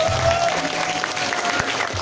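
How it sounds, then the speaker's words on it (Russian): An indoor audience at a school music battle claps in a dense, steady wave of applause, sustained and fairly loud throughout the short stretch. "ваши аплодисменты достаются абсолютно всем"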